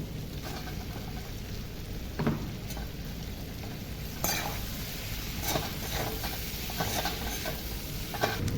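Egg fried rice sizzles in a pan with soy sauce and scrambled egg, a dense steady crackle and hiss broken by a few sharp stirring knocks against the pan, close up and without talk.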